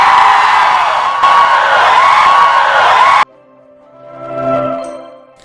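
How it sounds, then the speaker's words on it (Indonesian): A Dayak Kanayatn Tariu ritual shout from West Kalimantan: a long, loud, sustained cry held for about three seconds that cuts off abruptly, followed by a fainter tonal swell. "Tariu berarti berteriak. Berteriak keras dengan nada yang panjang"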